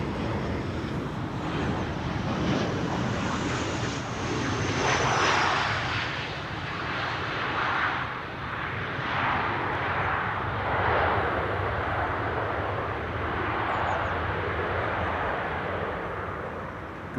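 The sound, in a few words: KLM Boeing 737-700 jet airliner at Amsterdam Schiphol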